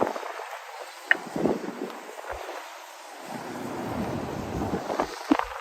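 A sharp, very cold February wind buffets the microphone outdoors while walking downtown in Regina, making a low, uneven rumble that swells and eases in gusts, with a few faint knocks.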